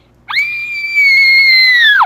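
A loud, sustained high-pitched human scream held for nearly two seconds, close and alone, with a sharp rise at the start and a falling tail at the end.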